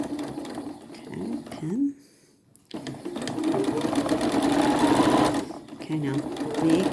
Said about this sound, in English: line up with the edge of the fabric, and keep sewing.